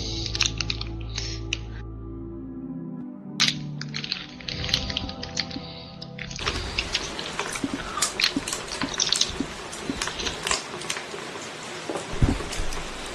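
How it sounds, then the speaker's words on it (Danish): Rain falling in the co-op puzzle game We Were Here, a steady dense patter of drops that starts after a few seconds of quieter, sparser sound and keeps up close and even to the end. "Det regner."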